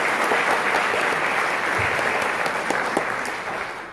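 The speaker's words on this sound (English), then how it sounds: "Can I have a round of applause for those silver sponsors?" A Rotary Club of Bangor audience at a 2018 music event applauds its silver sponsors, a loud, full burst of clapping that stays strong and then tapers slightly toward the end.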